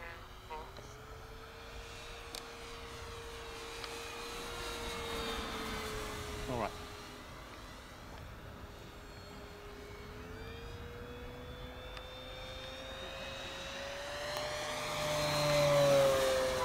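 An FMS P-47 Razorback radio-controlled foam model airplane drones overhead with a steady electric motor whine that shifts pitch as it passes, growing louder near the end, with occasional voices in the background.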